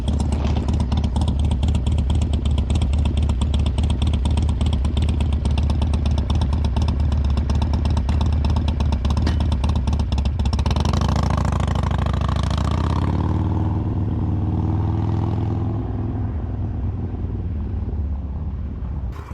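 Harley-Davidson Sportster fitted with a Bassani Road Rage 3 exhaust, loud and close, a deep lumpy idle and revving that drops off as the engine winds down near the end, with some wind noise.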